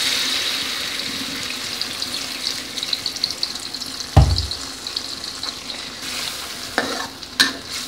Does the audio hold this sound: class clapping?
no